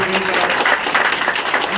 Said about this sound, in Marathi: एक जोरदार टाळ्या वाजून आपलं स्वागत